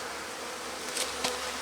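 Honey bees hum inside an opened hive, a continuous, fairly soft buzzing drone with a couple of brief, closer buzzes from individual bees passing near.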